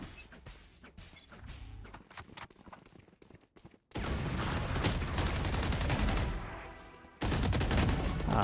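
Gunfire in a Valorant-style tactical shooter: a scattered run of sharp rifle shots and clicks, then dense, loud sustained bursts of fire with a brief pause between them.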